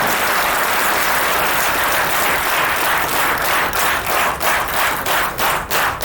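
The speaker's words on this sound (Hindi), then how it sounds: "उनके लिए एक बार सैल्यूट और जोर से तालियां" A crowd at a film teaser launch event gives loud, dense applause to honour a decorated army officer. The clapping fills the room, then thins into scattered individual claps near the end.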